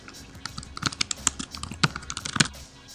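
Computer keyboard typing a username and password: a quick, uneven run of close, crisp key clicks, heard alone.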